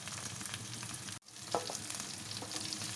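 Chopped green chilies sizzle and fry in hot oil in a pan, a steady crackling hiss with a brief drop and a small stir partway through, no voices.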